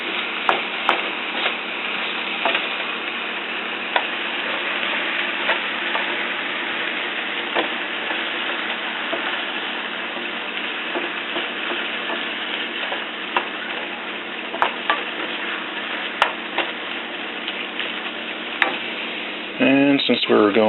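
A spiced chicken dish with egg sizzles in a hot pan while it is stirred, giving a steady crackling fry with intermittent scraping clicks and a louder clatter near the end.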